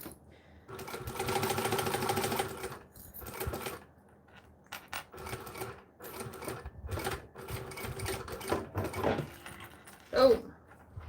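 Sewing machine stitching a cell phone sling in bursts of running stitches, with pauses, light clinks and handling noises between the runs; a voice speaks briefly near the end.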